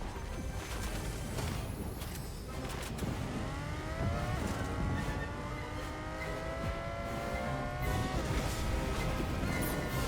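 A car engine revs and strains while stuck in the Fortnite video game, loud and continuous with rising and falling pitch sweeps and some scraping.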